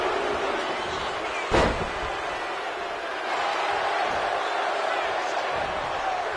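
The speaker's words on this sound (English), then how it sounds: "However you feel about Seth Rollins, he knows how to get the crowd going." Wrestling arena crowd in the video game WWE 2K26, a steady loud roar of cheering with a sharp impact thud early on, under commentary.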